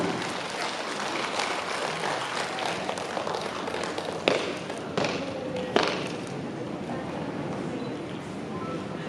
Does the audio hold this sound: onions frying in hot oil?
no